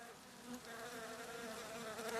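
Honey bees buzz inside a hollow tree, a dense, steady hum with wavering tones that holds throughout and swells slightly toward the end, with no voices.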